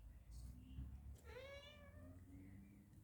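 Domestic cat meowing to be let out indoors; a single clear, drawn-out meow rises and falls near the middle, with faint household background around it.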